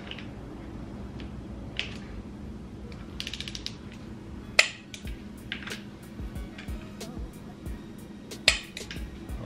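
A torque wrench tightening camshaft cover bolts on an engine, soft ratcheting clicks in short bursts with two sharper loud clicks as it reaches torque, over a low background hum.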